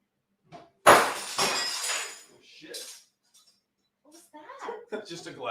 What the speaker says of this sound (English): I totally just broke a glass live on YouTube